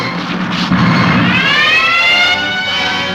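A loud alarm wails with a rising and falling tone, sustained and close, sounding alone throughout.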